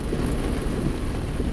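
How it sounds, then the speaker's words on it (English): Steady rain falling outdoors, a dense continuous hiss with low rumbling underneath, even and unbroken throughout with no voices. "drive in the rain"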